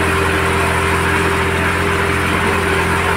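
Tractor engine mowing a steep, wet, sloping meadow, a steady loud drone with a low mechanical hum that holds constant throughout, no voices.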